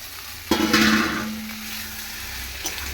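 Pointed gourd and prawns hit a hot, spiced pan with a sudden sizzle, then a steady frying hiss is stirred through with faint utensil scrapes; a brief clatter comes near the end.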